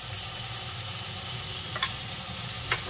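Tomato cooked down in a pan hisses steadily with ginger-garlic and cumin paste frying, a close, even sizzle that runs throughout, with a couple of brief scraping stirs.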